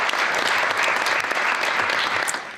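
Brief, loud burst of dense applause from a city council meeting audience, continuous clapping throughout with no voices.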